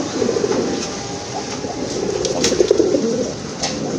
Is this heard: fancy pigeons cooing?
yes